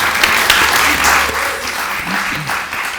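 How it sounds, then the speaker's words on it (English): Audience applause at a conversation event, a dense, loud wash of clapping from a crowd, sustained throughout with a slight swell and fade. "So, round of applause,"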